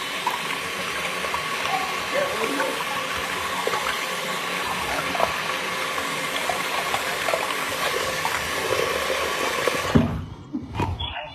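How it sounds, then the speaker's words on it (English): Water gushes and gurgles steadily as a sink drains, a continuous rushing wash that holds for about ten seconds before breaking off into a couple of abrupt knocks and sputters near the end. "did you guys hear the water draining?"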